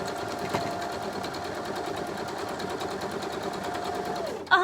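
An Elna sewing machine runs at a steady fast pace with a close, even mechanical whirr and rapid needle ticking, stitching continuously to use up the bobbin thread, then stops abruptly with a brief clatter at the end.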